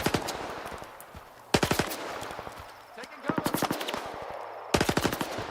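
Automatic gunfire from S.T.A.L.K.E.R. 2: Heart of Chornobyl, loud rapid bursts separated by short pauses, repeating across the clip with a faint hum beneath.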